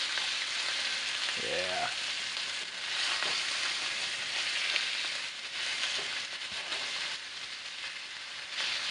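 Lamb loin chops searing in a hot pan, giving a steady, close sizzle that holds throughout, with a brief voice near the start.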